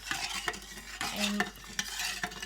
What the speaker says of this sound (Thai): คนไปจนมันมันเดือด